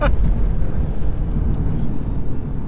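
Stage 1 Audi S4 intake roaring while driving, a loud, deep, steady rumble heard from the cabin with no talk.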